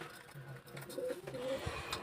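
Soft, low pigeon coos repeat a few times close by from a pigeon loft over a quiet background hum.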